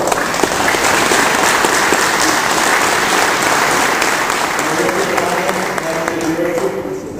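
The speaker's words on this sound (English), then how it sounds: "Let's give him a round of applause." Audience at a Leominster city councilor debate applauding, dense sustained clapping from a roomful of people, loud and even before tapering slightly near the end, with a voice briefly audible underneath.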